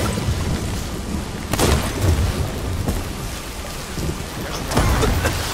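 Bombs blow up during a multiplayer shooter match, booming, thundery blasts landing over a constant rain-like rumble, with a strong burst near the start and another toward the end.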